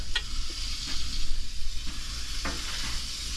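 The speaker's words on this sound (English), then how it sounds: "we're gonna let this simmer on low until we're ready to serve dinner" Big meatballs simmering in a pot of marinara sauce, with soft scattered bubbling pops and clicks over a low background hum and no voices.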